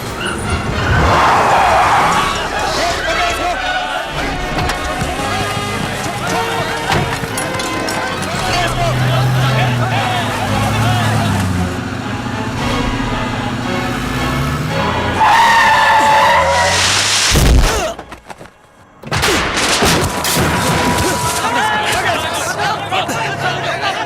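A car pulls out and skids in a South Indian action movie scene about Chennai gangsters, the tire squeal and engine rising amid dense music and dialogue, with a sharp cut to near silence before the score returns.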